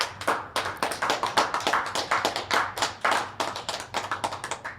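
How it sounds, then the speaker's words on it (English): An audience clapping for Tessa at a business talk, a brisk run of distinct overlapping handclaps, fairly close and without talk. "Let's clap it up for Tessa."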